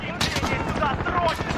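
Gunfire in Call of Duty Modern Warfare, a brief burst of rapid shots with a few louder cracks, with a voice speaking over it.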